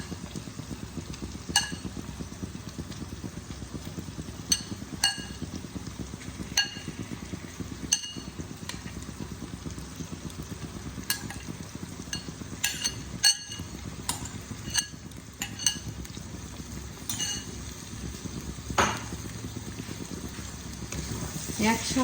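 Chicken mince cooks in a pan for restaurant-style chicken keema, a soft, steady sizzle and bubble punctuated by scattered clinks and scrapes of a spoon, with a voice talking at times.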